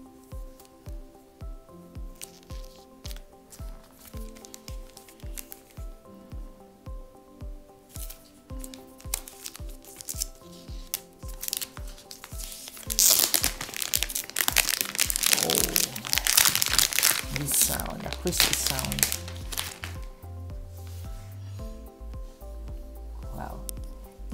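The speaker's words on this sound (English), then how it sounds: "So, time to unseal the tub now." Plastic tub packaging of an Asus ZenPad 3S tablet being unsealed, with a steady run of soft crinkling clicks that swell into a louder, denser crackle of plastic near the middle before easing off.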